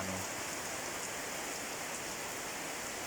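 Heavy rain pours steadily in a dense, constant hiss, loud and close throughout with no talk over it.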